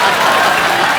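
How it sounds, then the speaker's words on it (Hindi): Dense audience applause on a Hindi TV comedy show, The Kapil Sharma Show, a loud, even burst of many hands clapping at once for about a second. "ताली बजाओ"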